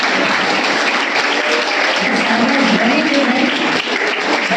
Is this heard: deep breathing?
no